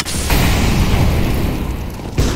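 Grenade exploding in CS:GO on the Inferno map, a single loud close boom followed by a sustained rumbling roar that fades after about two seconds. No one speaks.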